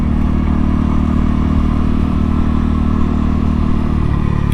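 Honda CRF300L motorcycle fitted with a MotoX exhaust, baffle in, running at steady speed on a commute: a loud, constant close-up engine drone mixed with rushing wind noise, no talking.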